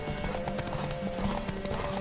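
Horse hooves galloping in The Witcher 3, a rapid steady clip-clop rhythm of hoofbeats over a busy game soundscape.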